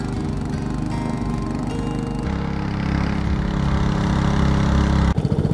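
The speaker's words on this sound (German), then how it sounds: "die Dinger, die gehen mal auf Vollgas" A diesel boat engine drones steadily throughout on a Brazilian rainforest river, rising in intensity toward full throttle near the end before briefly cutting out, loud and close with a rough mechanical rumble.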